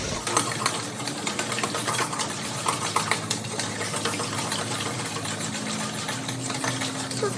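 Electric mixer beating buttermilk into chocoflan batter, a steady close whirring hum that runs continuously with slight rattling, loud and alone without talk.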